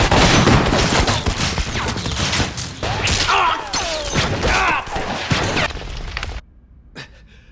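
Anime gunfire from a battlefield scene in Violet Evergarden, a loud burst of rapid shots and impacts layered with dramatic effects for several seconds, then dropping abruptly to near silence.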